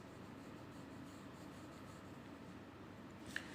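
Marker or chalk writing an answer on a classroom board during a Class III science lesson, a steady faint scratchy rubbing that runs throughout at low level, with a small tap near the end.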